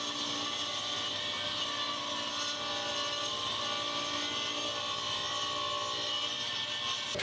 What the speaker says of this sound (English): first I had to rip them at the table saw